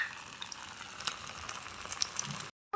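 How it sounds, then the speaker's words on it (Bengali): Battered miniature potato twisters sizzle in hot oil, a close, steady crackle with scattered pops for a few seconds before cutting abruptly to silence. "দেখো, এটাকে ভাজার জন্য দিয়ে দিলাম।"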